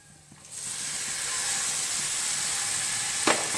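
Jackfruit hits a pan of sautéed masala and breaks into a loud, steady hiss of sizzling that holds throughout, with a brief scrape near the end.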